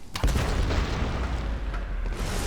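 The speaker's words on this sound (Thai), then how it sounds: "โอ้โหมันระเบิดเอาในถ้ำ" A big explosion rumbles through a cave in the video game Tomb Raider, a loud deep boom followed by a sustained roaring rumble of collapsing rock that fills the space.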